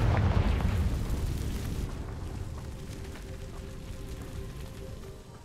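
Confringo fire spell in Hogwarts Legacy goes off as a loud booming blast up front that rumbles, then fades into a decaying roar and crackle over about five seconds, with no voices.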